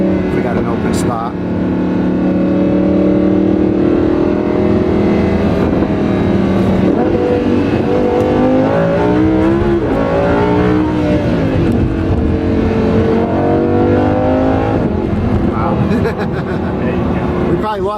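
A Lamborghini Huracan LP 580-2 accelerates hard, its loud engine climbing through rising revs with shifts, then crackling with exhaust overrun as the throttle lifts. The sound is steady and close, heard from inside the car.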